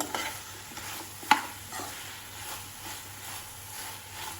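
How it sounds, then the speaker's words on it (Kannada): Gobi manchurian stirred in a pan, with a steady soft sizzle of frying under scraping spatula strokes and one sharp clack near the middle; no voices. "ಈಗ ಒಂದೆರಡು ನಿಮಿಷ ಇದರಲ್ಲಿ ಕುದಿಸ್ಕೊಳ್ಬೇಕು, ಫ್ರೈ ಮಾಡ್ಕೊಳ್ಬೇಕು."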